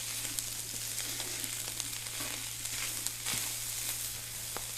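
Minced keema fries on a hot tawa in a steady, close sizzle, with light scraping and clicks as it is stirred and mixed throughout.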